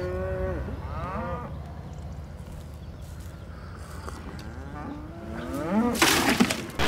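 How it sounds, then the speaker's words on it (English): A cow moos loudly several times in long, drawn-out lowing calls with rising and falling pitch, set against a low background rumble. "Look at the size of this cow that has everyone talking."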